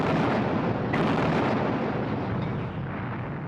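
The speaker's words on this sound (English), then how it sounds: "So the British opened fire on their former allies." Naval gunfire from British warships shelling French battleships, heard as a dense, continuous roar of distant heavy guns and rumbling blasts, with a sharper burst near the one-second mark, sustained loud throughout.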